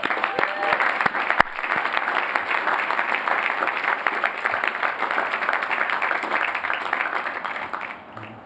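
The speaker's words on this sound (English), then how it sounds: "And so let's give a round of applause to them as well." At a 2019 Class Day ceremony, a large crowd applauds in a steady, full wash of clapping that holds for about eight seconds before softening at the close.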